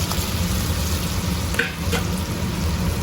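Pre-fried chicken pieces tossed into frying spices in a pan, a steady close sizzle with a couple of brief sharper crackles or stirring clinks midway, no talking.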